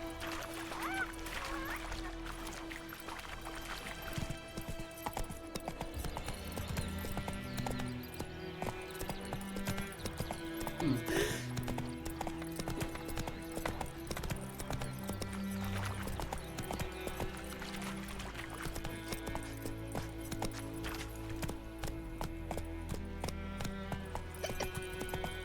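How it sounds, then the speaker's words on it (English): Horse hooves clip-clop at a steady walking rhythm in The Witcher 3 video game, with a brief whinny near the middle, set against continuous game music and ambience. "Whoa there, Roach."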